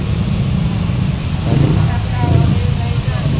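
Heavy, congested road traffic in the Philippines: a constant low rumble of idling and slowly moving engines close by, with a voice talking over it.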